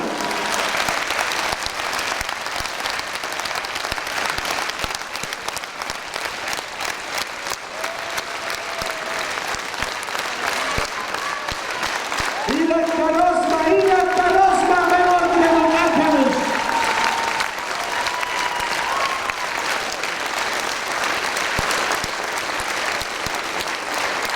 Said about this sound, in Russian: Это аплодисменты вам, настоящим воинам, настоящим мужчинам